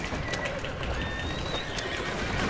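A horse in the video game Assassin's Creed Syndicate gives a high, wavering whinny amid dense game ambience and clip-clopping hooves, with no talk.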